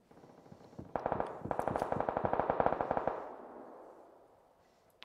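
Gunfire in the battle royale game PUBG at night: a rapid automatic burst of dozens of shots, loud and close, with a short pause, then a trailing echo that fades away.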